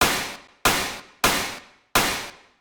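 Dubstep synth bass run through a full processing chain for a heavy tearout drop: four loud, bright, metallic-sounding hits in a steady rhythm, each with a sharp attack and a quick decaying tail.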